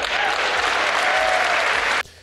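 A large crowd applauds at the Apple October 2018 event as the new 12.9-inch iPad Pro is revealed. The clapping is dense and sustained, then cuts off abruptly near the end.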